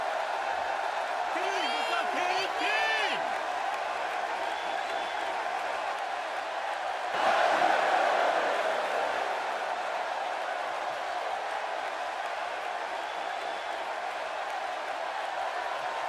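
A capacity arena crowd cheers in the WWE 2K16 wrestling game, a steady roar throughout that swells partway through, with a commentator's voice over it.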